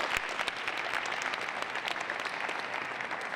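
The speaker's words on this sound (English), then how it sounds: "Give them another big round of applause," Attendees at a boxing promotions press conference give a sustained round of applause, a dense, even crackle of many hands clapping in a room, steady from start to finish.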